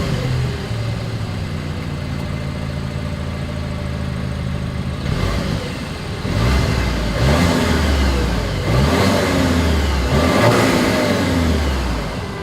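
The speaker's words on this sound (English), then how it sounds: "As always, here is that exhaust clip." A 2024 Volkswagen Atlas Cross Sport with dual exhaust idles steadily, then revs loudly in several strong bursts, its engine roaring up and settling back between pulls.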